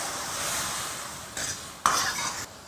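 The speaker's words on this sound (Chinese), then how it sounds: "猪油炒化，下入姜、葱一点点，还有这个切的番茄碎，先用大火煸炒" Chopped tomato stir-fried in melted lard with a little ginger and scallion over high heat, a steady close sizzle with spatula scrapes and a sharp clack against the wok partway through.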